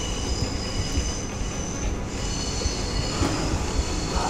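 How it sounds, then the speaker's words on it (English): Train passing on a nearby railway outside an open window, a steady low rumble with a faint metallic whine and hum, continuous and moderately distant with no talk. "I live next to trains now."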